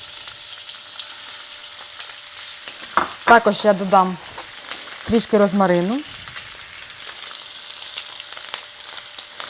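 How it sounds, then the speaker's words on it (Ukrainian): Pork tenderloin sizzles and crackles steadily in a hot pan with olive oil and butter, a continuous frying hiss while someone speaks briefly over it. "І викладаємо нашу вирізку смажитись."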